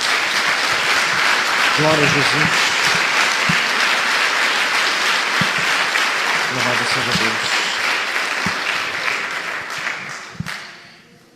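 A church congregation applauds steadily and loudly for several seconds. Voices call out praise over the clapping, and the applause fades away at the end.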